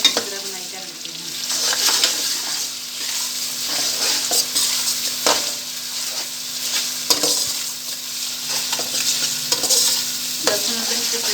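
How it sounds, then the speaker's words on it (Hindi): Garlic ginger paste frying with onions in a pan for potato carrot sabzi, steady close sizzling with repeated scraping stirs of a spoon throughout, no talking. "लहसुन अदरक का पेस्ट 2 से 3 मिनट तक अच्छी तरह बनाई कर लेते हैं।"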